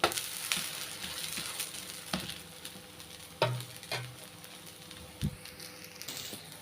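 Sweet potato paniyaram fry quietly in oil in a pan, with a soft constant sizzle broken by a few isolated clicks and taps of a utensil.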